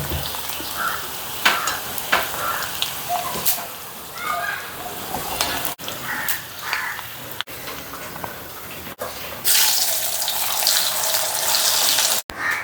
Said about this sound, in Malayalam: കോവയ്ക്കെല്ലാം നമ്മളിതാ വറുത്ത് കോരിയിട്ടുണ്ട്